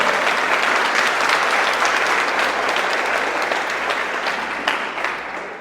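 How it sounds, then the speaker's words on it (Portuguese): Sustained applause from a church congregation, dense and steady clapping filling the room, fading slightly toward the end. "Vamos dar uma salva de palmas à palavra de Deus"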